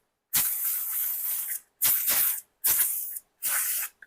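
Care spray is sprayed from an aerosol can onto the parts of a Polish MPS pistol during cleaning, in four close, loud hissing bursts separated by short pauses.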